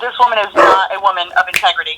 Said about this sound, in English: If you guys can hear my dogs barking